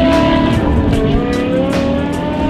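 A BMW E63 M6's 5.0-liter naturally aspirated V10 revs hard and loud, a sustained high-pitched wail with shifting pitch that fills the whole moment.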